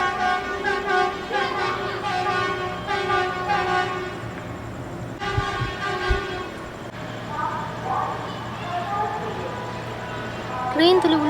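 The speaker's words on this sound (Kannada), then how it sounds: "ಟ್ರೈನ್ ಅಂಚನೆ ಹಾರ್ನ್ ಪಡೋದು" A passing train sounds its horn in long sustained harmonic blasts, loud and near, with rail rumble underneath and people talking over parts of it.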